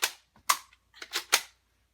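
Gunshot sound effect: several sharp cracking shots ring out close up, one alone, then a quick cluster of three, each decaying fast into silence.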